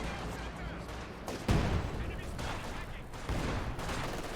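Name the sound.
ZiS gun artillery barrage in video game Company of Heroes 2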